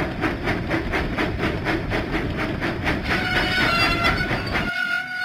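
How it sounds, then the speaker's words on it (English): Thomas the Tank Engine steam train from a video game puffs out of the docks, a rhythmic chuffing over a rumbling rail sound, steady and close, ending in a whistle-like tone. "Thomas pumped his pistons and puffed out of the docks."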